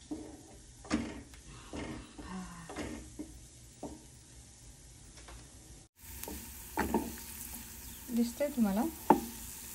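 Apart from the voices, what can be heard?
garlic lightly frying in pan for mushroom recipe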